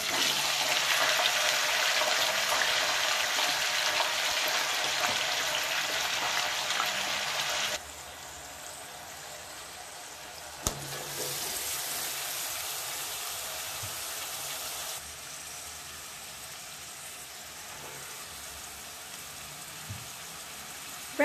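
Mixed vegetables tipped into hot oil in a pan for a Hindi/Urdu-style mixed sabzi, giving a loud, dense sizzle that drops sharply after several seconds to a quieter, steady frying hiss.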